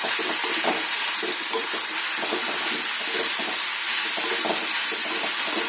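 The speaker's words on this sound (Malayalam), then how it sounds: "നന്നായിട്ട് ഇളക്കി കൊടുക്കണം" Cabbage and tomato stir-fried together for vegetable thoran, a steady loud broadband sizzle with scraping stir strokes throughout, no voices.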